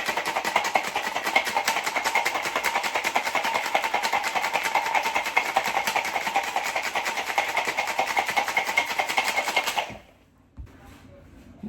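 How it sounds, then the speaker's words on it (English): Margarita with lime being shaken hard in a capped cocktail shaker: a dense, steady rattle of ice for about ten seconds, then it stops abruptly and near silence follows. "we're gonna go ahead and add our cap to this here cocktail shaker and give it 8 to 10 seconds"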